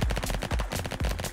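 Egg launcher gun in the Roblox game Flag Wars firing a rapid burst of loud, punchy shots in quick succession, with no talking.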